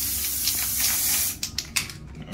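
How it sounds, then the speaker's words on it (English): Lacquer spray from an aerosol can misted over painted press-on nails: a long continuous hiss followed by several short sharp bursts, close and fairly loud, with no talking. "now I've got this other spray, and it's a lacquer spray, so it makes it look nice and shiny"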